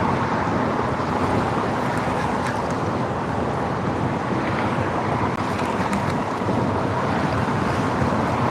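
Steady wind buffeting and rushing surf at a fishing spot with strong current, a loud, continuous roar of wind noise over breaking waves throughout, with no voices.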